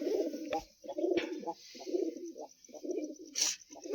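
Pigeons coo close by in a steady series of soft, throaty, repeating calls, about seven in a row, with no talking.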